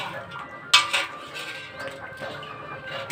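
Dishes and utensils being washed in an Odia household, with scattered metal clinks and clatters, two sharper knocks near the start, over faint background voices.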